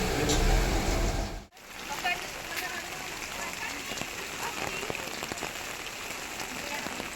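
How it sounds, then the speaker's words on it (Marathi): Heavy rain pours steadily outside, a dense unbroken hiss with a brief dip early on, while people talk faintly underneath. "खूप जास्त पाऊस आहे बाहेर"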